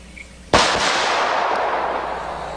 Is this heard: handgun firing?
yes